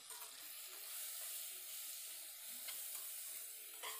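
Sambar powder is stirred into a simmering kootu curry, a faint, continuous hiss and sizzle with soft stirring movements and no speech.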